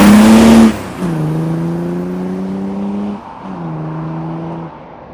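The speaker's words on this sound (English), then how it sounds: "I'm going to do a 0 to 60 test on it" Mercedes W124 with an OM606 diesel engine running a 0-60 acceleration test, a loud close engine drone that rises through two long pulls separated by a brief dip at a gear change, after an initial burst of roar.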